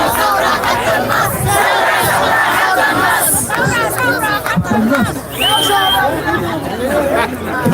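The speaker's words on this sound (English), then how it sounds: "Such a big crowd today." A big, loud crowd at an outdoor protest rally cheers, shouts and chatters all at once, a dense continuous roar of many voices close by with individual yells rising out of it.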